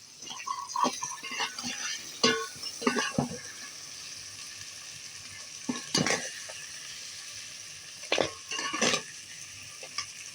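A spoon scrapes and clatters in a pan of sizzling khaga vegetable curry in short bursts, with quieter frying hiss in between and no talking.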